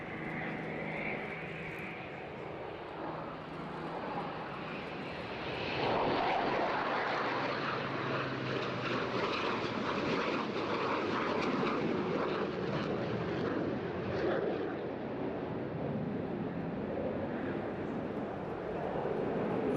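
Formation of fighter aircraft flying past at an airshow, a broad steady engine roar at moderate distance that swells slightly after a few seconds and holds for about twenty seconds, with no talk over it.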